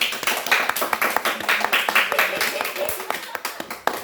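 A class claps hands together in a brief burst of scattered, uneven claps at close range, with voices chattering underneath throughout.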